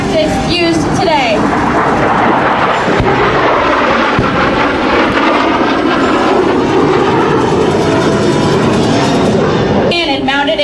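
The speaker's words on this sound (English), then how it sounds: "Followed by the Harriers as they attack by strafing the LZ." Harrier jets strafing a landing zone with nose-mounted cannon during a Marine air-ground demonstration at the 2006 MCAS Miramar airshow: a loud, continuous roar of jet engines and rumbling fire that fills the whole stretch.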